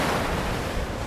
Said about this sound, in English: Lashed by screaming winds, great waves thundered against the trunk of the tree.